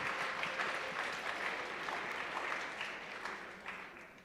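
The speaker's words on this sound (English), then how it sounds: "a round of applause to that one" Audience applause at a benefit concert, a dense, even wash of many hands clapping that continues steadily for several seconds before tapering a little, heard from within the hall.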